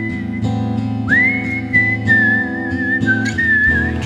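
A person whistles a sliding, sustained melody over a steady instrumental backing with bass and repeated chords, the tune clear and prominent throughout.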